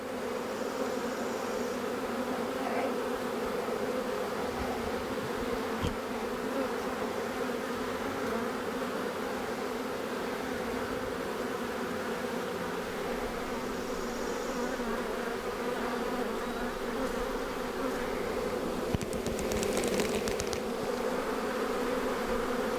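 Dense, steady buzzing of many bees inside an agitated hot hive, continuous and close with no voices, a faint knock or two near the end.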